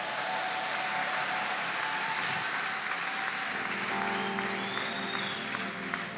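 A church congregation applauding during a French-language worship service, steady dense clapping that fills the room throughout, with a brief brighter tone near the end.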